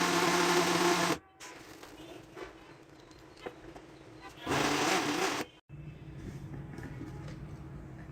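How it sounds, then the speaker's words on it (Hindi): An electric mixer blending cake batter as flour goes in, whirring loudly in two short bursts with a quieter steady hum between them, while a voice talks. "थोड़ा थोड़ा ऐड करके हम इसे भी अच्छी तरह से ब्लेंड करेंगे"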